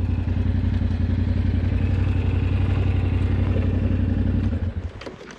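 A motorcycle rides a mountain road near the Aiguilles de Bavella in southern Corsica, its engine droning steadily and close with a throbbing low rumble, then easing off and fading in the last second.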